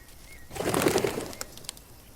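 Birds in a woodland setting of a video game burst into a short flurry of cooing calls and wing flaps, loud at first and fading within about a second, with a few faint chirps after.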